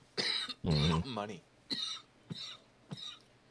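A person coughs in several short bursts, some rough and throaty, with pauses between them and a single spoken word mixed in.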